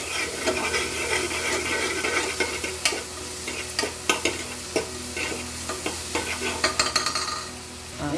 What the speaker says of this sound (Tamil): நல்லா ஒரு 5 நிமிஷம் நல்லா வதக்குனீங்கன்னா வெங்காயம் நல்லா வதங்கணும்.